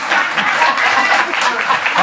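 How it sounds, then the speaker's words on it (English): An audience at a live show claps steadily and densely, a loud, continuous patter of many hands with a faint murmur of voices underneath. "Keep clapping, keep clapping, keep clapping"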